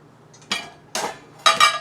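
Three sharp metallic clanks of pots and a big frying pan being knocked together, close up, with short pauses between them.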